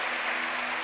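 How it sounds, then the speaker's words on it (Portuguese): A church congregation claps for Dona Ondina's 80th birthday, a brief, even burst of steady applause filling the room with no voices over it. "depois dessas palmas aí que vocês bateram para ela"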